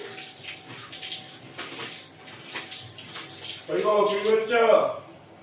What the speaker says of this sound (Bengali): আমি মাছের জন্য আলু কেটে এই আলু এখন ধোবো